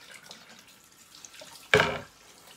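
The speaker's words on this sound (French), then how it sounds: "Je le rince à nouveau." Konjac rice gets rinsed under a kitchen tap, a brief gush of running water that bursts in near the end and fades within a fraction of a second, after quiet background.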